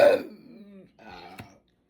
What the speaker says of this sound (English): They do make you burp.